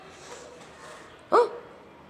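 A single sharp bark from a three-year-old dog rings out once, fairly close and loud, over a quiet room background with no talk.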